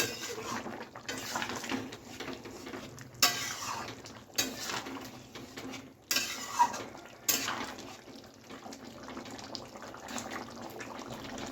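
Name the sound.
stirring jackfruit curry in a pot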